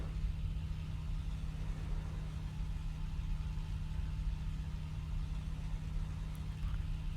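A steady, close aircraft engine in the IL-2 Great Battles combat flight game drones continuously with a low, even tone and no break, alone with no voices.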